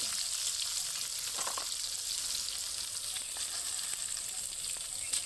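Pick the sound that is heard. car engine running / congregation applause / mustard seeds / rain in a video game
mustard seeds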